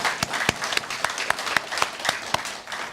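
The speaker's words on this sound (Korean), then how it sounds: "우리 박수 한번 드릴까요?" A church congregation breaks into applause, a steady wash of many hands clapping across the room with a few sharper claps standing out, continuous and fairly loud.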